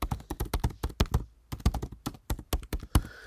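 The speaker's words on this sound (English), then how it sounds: "we're going to type in the RSS feed" Computer keyboard typing, a quick run of crisp close key taps in uneven bursts with a short pause in the middle, fairly quiet with no voice.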